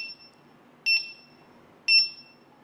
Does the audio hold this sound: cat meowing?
no